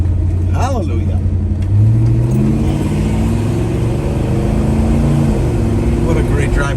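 A 1969 Chevrolet Chevelle Malibu engine drones steadily up close, its pitch rising and dropping as it shifts through gears, with a voice speaking over it.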